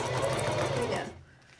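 A sewing machine runs a short burst of back stitching, a fast close whirr lasting about a second before stopping abruptly, with a voice speaking around it.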